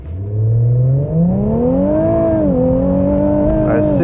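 A 2018 Infiniti Q50 Red Sport launches at full throttle in sport mode with traction off, its engine note climbing steadily and loudly in pitch, dipping briefly at a shift, then pulling hard again right up close.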